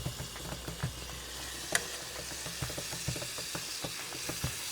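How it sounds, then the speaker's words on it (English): Garlic and butter sizzle steadily in a pan, a close, continuous frying crackle with small pops and stirring scrapes throughout. "We're adding the garlic, butter, quite a nice portion of butter."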